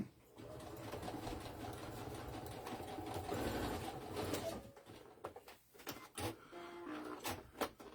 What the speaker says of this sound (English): go to the sewing machine and just give it a little tack down right where the straps are